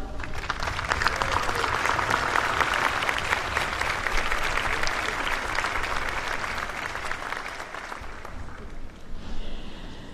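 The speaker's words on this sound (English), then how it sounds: "Bill and Victoria, would you please stand and let us applaud you?" Audience at a college graduation ceremony applauding, sustained dense clapping from a large crowd that holds steady for about ten seconds before thinning slightly at the end.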